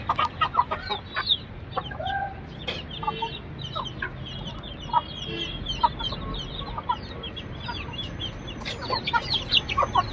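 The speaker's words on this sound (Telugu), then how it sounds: "వాటర్ చేంజ్ చేయగానే వాటర్ చూడండి కోళ్ళు ఎట్లా తాగుతానో" Country chickens cluck and chatter repeatedly as they drink fresh water in hot weather, several birds close by with irregular bursts of calls over a low background rumble.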